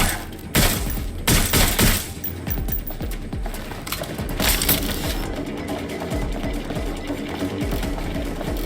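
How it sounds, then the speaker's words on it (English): Bursts of rapid gunfire from a suspect in Watch Dogs: Legion rattle loudly and close. Dense automatic volleys repeat through a steady mechanical clatter. "Suspect has opened fire."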